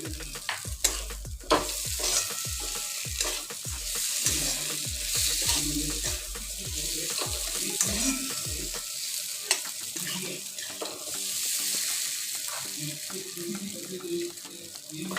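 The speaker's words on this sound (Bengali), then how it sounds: "আলুটাকে দিয়ে দেব যে মুসুর ডালটা রেখেছি মুসুর ডালটাকে দিয়ে দেব একটু ভেজে নেব কিছুক্ষণ একসাথে দু মিনিট মতন" Potato and red lentils fry in a pan with a steady sizzle, punctuated by a quick series of sharp spoon scrapes and knocks that give way to softer, irregular stirring and clinks.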